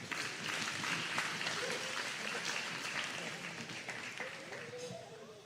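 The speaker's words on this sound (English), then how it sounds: "We do another round of applause for our 4 speakers, for Leah Lembeck, for Jess Solomon, for Lau" An audience applauds steadily for several seconds, a dense wash of clapping that slowly fades a little toward the end.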